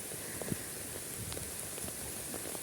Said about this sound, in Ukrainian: Подивіться, який рясний дощ іде.